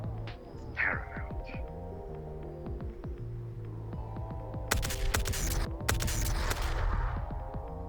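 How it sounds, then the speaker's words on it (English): Two gunshots in a roleplay video game set in the Metaverse: sharp, bright blasts about a second apart, standing out over a low throbbing hum and scattered clicks. "Is that the sound of that fellow punching? I think it might be a gunshot."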